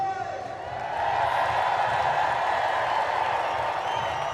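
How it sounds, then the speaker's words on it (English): A stadium crowd at the World Para Athletics Championships in London roars on cue, a broad sustained cheer that swells after a second and holds loud and steady. "that's the kind of cheer I expect first thing on a Monday morning"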